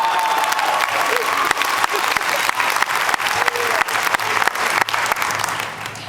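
Convention audience at a Fan Expo Canada 2012 panel for the TV series Lost Girl breaks into sustained, dense applause with some cheering, steady and loud throughout before tapering slightly at the end.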